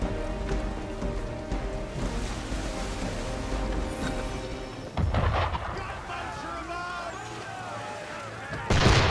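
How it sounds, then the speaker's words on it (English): Gunfire aimed at a sailing ship in Assassin's Creed III: a couple of sharp, loud shot bursts cut through a steady bed of rain-like noise and ambient game sound, with music-like tones underneath. "Why is he shooting at us?"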